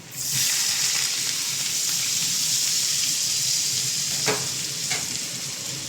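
Chopped coriander and mint dropped into hot oil for a vegetable biryani set off a loud, steady sizzle that starts abruptly and keeps going, with a couple of faint stirring clicks toward the end and no talk.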